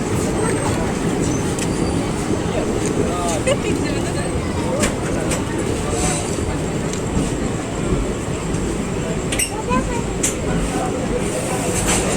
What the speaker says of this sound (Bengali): আমাদের ট্রেন এই মুহূর্তে এসে পৌঁছালো খাগড়াঘাট রোড